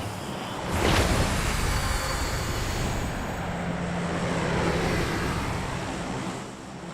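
An airplane flies overhead on the Erangel map of PUBG Mobile, a steady engine drone that swells in after a second, holds loud and fairly close, then eases off toward the end.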